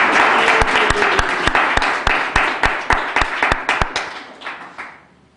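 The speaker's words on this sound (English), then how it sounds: "I'd like a round of applause," An audience at an evening event gives a round of applause, a dense burst of clapping that holds steady for several seconds and then fades out.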